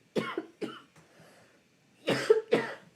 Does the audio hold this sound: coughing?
yes